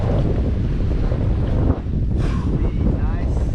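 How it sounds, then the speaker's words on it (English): Strong wind buffets a boat out on open water, a loud steady roar across the whole clip with a brief dip partway through and faint water and hull noise underneath. "the wind just keeps going"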